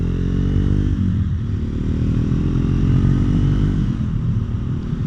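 A Triumph Scrambler motorcycle is ridden with a steady, loud engine drone and wind rumble, the engine note shifting slightly as it accelerates.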